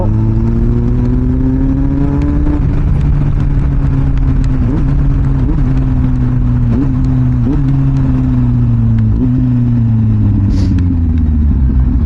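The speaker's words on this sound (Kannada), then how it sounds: "ನಾನು ಫಸ್ಟ್ ಟೈಮ್ ಒಂದು 4 ಸಿಲಿಂಡರ್ ಬೈಕ್ನ ಓಡಿಸ್ತಾ ಇರೋದು ಇವತ್ತು" A Kawasaki Z800 inline four-cylinder motorcycle engine runs steadily and revs up and down several times, a smooth, high-pitched whine close by with no one talking.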